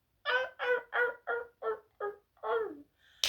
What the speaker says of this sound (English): There's a seagull outside.